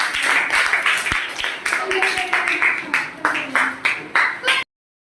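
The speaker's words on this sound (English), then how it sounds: "Clap for both." Students in a classroom clap for their classmates in an English communication skills class, producing a run of uneven, sharp hand claps at close range that fade out near the end, with voices talking underneath.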